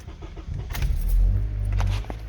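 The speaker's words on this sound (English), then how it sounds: "I'm going to turn the car on real quick" An eighth-generation Honda (2008–2012) engine cranks and catches, settling into a steady idle close by, with a faint jingle of keys at the start.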